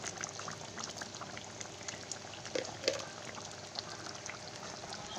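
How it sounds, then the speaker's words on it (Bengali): Masala chicken meat boiling in a pan makes a steady, soft bubbling and sizzling with scattered small pops, close and fairly quiet, with no voices. "মাংসটা এবার সেদ্ধ হতে দেবো।"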